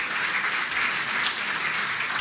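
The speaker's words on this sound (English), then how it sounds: "let's give a round of applause and make you" Audience applause at an evening lecture on Coast Guard history in Port Aransas, a steady wash of many hands clapping from a seated crowd, even and sustained throughout with no voices over it.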